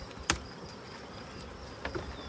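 Honey bees buzz around an opened hive, a soft steady hum with a couple of brief, louder passes close by, and no voices.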